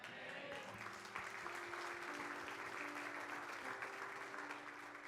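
Congregation applauding inside a church, sustained dense clapping from many hands filling the space evenly throughout, with a few faint voices underneath.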